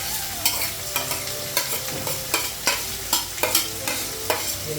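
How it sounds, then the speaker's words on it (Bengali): Carrots and beans fry in a pan and get stirred with a utensil, making a continuous sizzle broken by repeated sharp scraping strokes against the pan at an uneven rhythm, close and fairly loud. "গাজরটা আর বিনসটা ভাজা হয়ে গেছে,"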